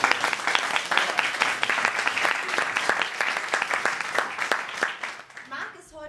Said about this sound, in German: Ein Applaus für Marc.